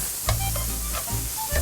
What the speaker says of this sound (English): These are chopped up portobello mushrooms, just the caps. And let that saute for just a minute